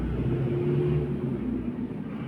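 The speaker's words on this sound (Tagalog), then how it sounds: "Kasi madaming dumadaan ng mga truck, motorsiklo, at iba pa" Steady low road rumble from passing trucks and motorcycles on a busy roadside, a continuous loud drone with faint engine hum and no distinct single pass.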